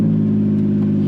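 A Lamborghini Diablo SV engine idles close by with a loud, steady, deep rumble and no clear rise in revs across the short stretch.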